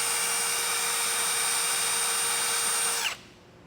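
A power drill with a 1/2 inch bit whines at a steady high pitch for about three seconds while drilling out holes for a base plate on a 2019 Ford F-150, then abruptly stops, leaving quiet room tone.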